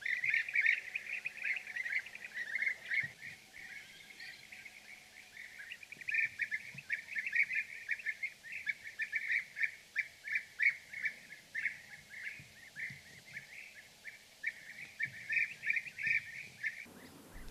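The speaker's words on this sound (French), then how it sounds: "Un gobe-mouche gris." Spotted flycatchers calling near their nests, with thin, high, repeated chirps in scattered bursts over a quiet background, moderately close and continuing throughout with brief pauses.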